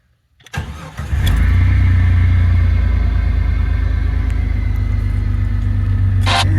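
Jeep Cherokee XJ with 104,000 original miles cranking briefly, then catching into a loud, steady, close idle that rumbles on without pause.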